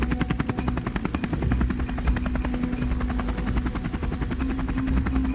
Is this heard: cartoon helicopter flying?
yes